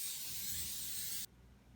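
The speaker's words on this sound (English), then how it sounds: "I'm going to spray my cupcake pan with some Bake Easy." A steady hiss of aerosol cooking spray onto a cupcake pan lasts just over a second, then stops abruptly and leaves quiet room tone.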